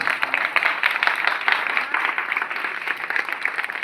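Audience applause at a Hindi-language cleanliness awareness rally event, a dense, steady clapping crowd that fills the whole stretch at moderate loudness with no break.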